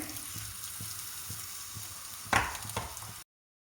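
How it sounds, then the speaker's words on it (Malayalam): Sliced onions sauté in coconut oil for a Kerala crab curry, giving a steady low sizzle with soft scraping stirs and a sharper clatter of the spoon near the end, and no voices. "സവാള ഒരു ലൈറ്റ് ബ്രൗൺ ആവുന്നത് വരെ നമ്മൾ വെളിച്ചെണ്ണയിൽ അത് വഴറ്റിക്കൊണ്ടിരിക്കണം"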